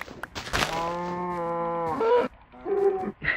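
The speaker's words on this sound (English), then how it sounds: "Won't move, cow." A cow in the Minecraft game lets out a long, close, clear moo followed by a shorter second one.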